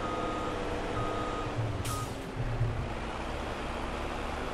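Truck reversing beeps in Farming Simulator 22, a steady repeating tone at a moderate level over constant engine rumble, with a brief hiss partway through.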